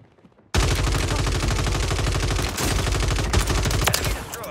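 Rapid automatic gunfire in Call of Duty Warzone 3 bursts in loud and close after a short quiet start, a dense continuous stream of shots with a brief break midway before firing resumes.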